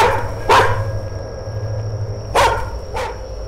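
A dog barks in the horror video game The Karaoke by Chilla's Art, one sharp bark followed later by a quick pair, at middling distance over a steady low ambient hum.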